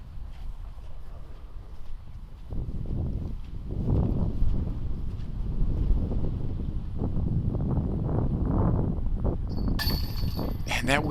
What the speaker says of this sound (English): that wind is whipping now